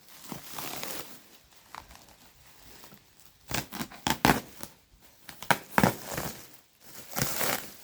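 Close crinkling and rustling of a wet, crumpled flower seed packet being handled, in irregular bursts that grow busier in the second half, with soft snips and crackles and no talk.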